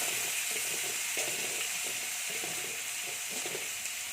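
Chopped onion with red chilli frying in a pan and being stirred, a close, steady, fairly loud sizzle with soft scraping strokes running underneath.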